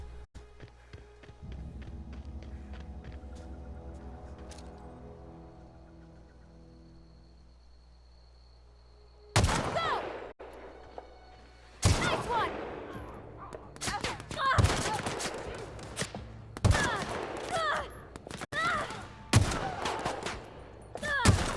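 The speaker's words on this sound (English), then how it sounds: "that rifle's putting it on them" Rifle fire in The Outer Worlds, a series of loud sharp shots from about ten seconds on, irregular bursts with echoing tails following a quieter stretch of low ambient game music.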